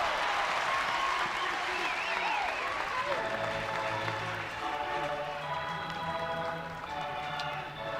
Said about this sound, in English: Got the crowd buzzing